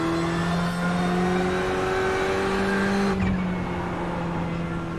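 LMP1 prototype race cars in the iRacing sim, a loud sustained engine drone with pitch shifting as they pass, a sharp click near the end, continuous and close.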